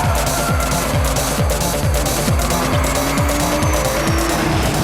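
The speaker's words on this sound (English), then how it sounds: "It's one of the Porsche famous flat six engines." A Porsche water-cooled flat-six making 252 brake horsepower, loud and close as the car drives hard, its revs climbing and dropping repeatedly through quick gear changes with no talking over it.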